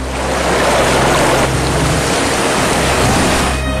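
Floodwater covering a submerged area of Farkhiya in Purnia, Bihar, where rivers such as the Kosi and Mahananda have overflowed, heard as a loud, steady rush of water with wind buffeting the microphone throughout, and no speech.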